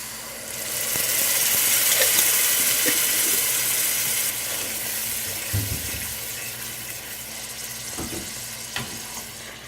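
Hot bacon vinaigrette for a wilted spinach salad coming to a boil in a pan: a steady close hiss and sizzle that is loudest early and then eases, with a few small pops and clinks.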